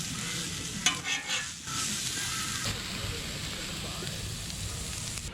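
Potatoes and onions fry on a Blackstone 17-inch griddle in a steady, close sizzle with a brief stirring scrape partway through and no talking.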